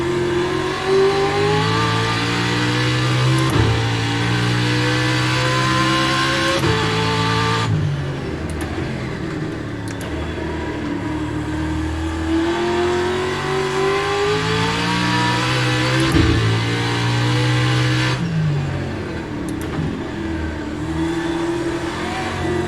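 Racing truck engines in an esports racing video game, a continuous loud drone of revving that rises and falls through gear changes with no break, close and dense.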